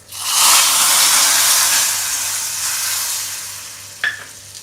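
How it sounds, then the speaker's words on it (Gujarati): Hot tempering (vaghar) poured into Gujarati dal, bursting into a loud, close sizzling hiss that slowly fades over several seconds, ending with a sharp clink of metal. "હવે આ વઘાર આપણે દાળમાં રેડી દઈશું"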